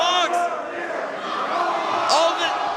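A wrestling crowd roars and yells during a bloody CZW match featuring Jon Moxley and Nick Gage, a loud continuous cheer with sharp shouts rising out of it and a commentator's voice over the top.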